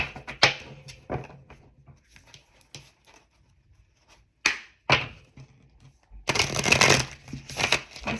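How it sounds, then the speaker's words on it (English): Cards riffle and shuffle in short bursts, with scattered taps and handling sounds between them, ending in a louder, sustained shuffle. "I'm gonna shuffle."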